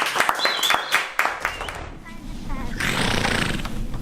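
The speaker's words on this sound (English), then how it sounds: "I think it's a big round of applause." A small group of adventure-bike trail riders in Wales claps and cheers briefly, a few sharp scattered claps giving way to a louder rowdy swell of whoops and laughter, with talk mixed in.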